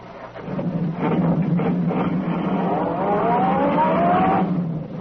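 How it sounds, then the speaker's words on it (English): A sedan accelerating hard along a concrete road as a radio drama sound effect, a loud rising engine roar that climbs in pitch and holds steady for several seconds with no talk. "The sedan sped along the concrete after Brinkley's car."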